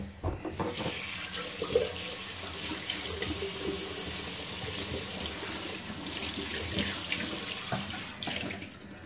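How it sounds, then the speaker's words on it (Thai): Water runs from a kitchen tap into a sink during cooking, a steady splashing flow that starts abruptly and continues close by for several seconds. "ใส่น้ำนิดนึงค่ะ"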